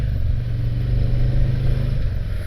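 A 2022 Harley-Davidson Ultra Limited motorcycle being ridden, its low engine rumble loud and steady with a slight rise in revs midway, heard close from the rider's position.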